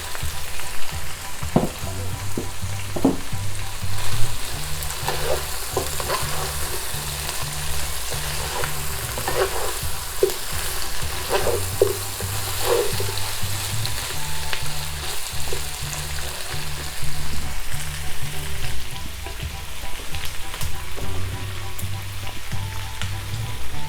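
Squash sizzling and frying in a hot pan, with a continuous crackling hiss, scattered pops and occasional stirring clatter, close and steady throughout with a low hum beneath.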